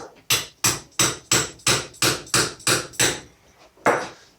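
A hammer strikes a metal suspension part about ten times in a steady rhythm of sharp, ringing close-up taps, tapping a spring into place during a VW Polo rear suspension repair, then pauses before one final, louder blow.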